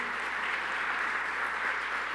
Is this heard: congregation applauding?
yes